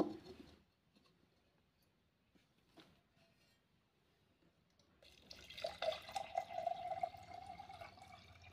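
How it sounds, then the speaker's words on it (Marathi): Water is poured from a vessel into an earthen ritual pot set on soil and grain during a ghatasthapana ceremony, a steady splashing gurgle that starts after a quiet stretch, close by and moderately loud. "घटात पाणी ओतते ती रिकामा घट ठेवायचा नाही"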